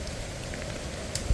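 Heavy rain falls steadily during a monsoon trek beside a swollen stream, a dense, even hiss with no voices.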